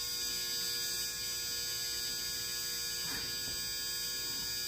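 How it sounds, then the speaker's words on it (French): A home clothes dryer runs with a steady mechanical hum and whirr, constant and fairly faint, with a few soft knocks from tumbling laundry. "C'est ma sécheuse."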